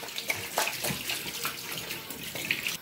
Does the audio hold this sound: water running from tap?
yes